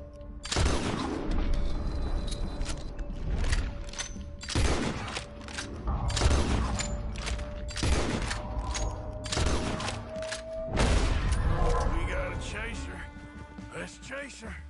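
Gunshots in the Red Dead Redemption 2 video game, a series of loud, sharp reports spaced a second or two apart, ringing out over steady background tone and a talking voice.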